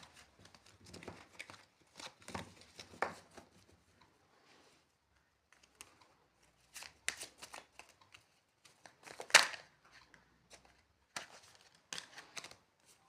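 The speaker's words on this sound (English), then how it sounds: "Let me just shuffle it again so that we get the bottom of the deck." A deck of tarot cards is shuffled in short, soft riffling bursts separated by pauses, close and quiet, with no talking over it.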